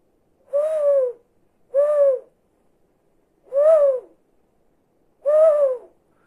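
Eagle-owl hoot imitated by blowing across a film canister: four hollow, resonant hoots, each about half a second, spaced evenly with clean silence between, close and fairly loud.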